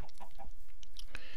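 Minecraft chicken clucking in a few short, close bursts, with a brief sharper sound near the end.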